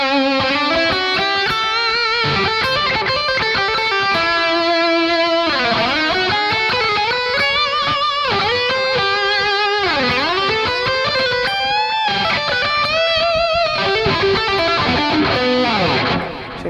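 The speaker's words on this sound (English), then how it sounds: "Let's turn the tape echo on." Electric guitar runs through a tape echo effect on a Headrush Prime, playing loud, continuous distorted melodic lead lines with bends and repeating echoes trailing each phrase, with no talking over it.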